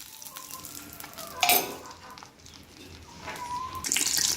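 Dried red chillies frying in a tablespoon of oil in a pan give a soft, steady sizzle with light stirring, and a brief louder crackle near the middle.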